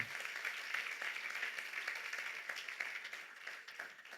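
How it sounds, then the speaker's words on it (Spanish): Church congregation at a Spanish-language sermon applauding, a faint, even roll of many hands clapping that holds steady for several seconds, heard from a distance. "Dele un aplauso al Señor"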